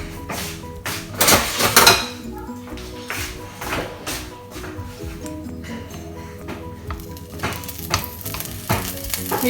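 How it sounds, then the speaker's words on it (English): Beef slices for Filipino bistek frying in a pan, loud crackling sizzle with sharp bursts as pieces go in and repeated tapping, scraping strokes of a utensil against the pan. "We will try to fry it one by one."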